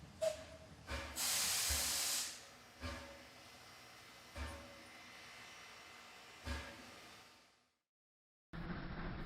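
A model passenger train sits at Wingfield Crossing station, releasing a long loud burst of steam hiss followed by several shorter puffs and soft clanks, ending in a brief pause before more low rumbling.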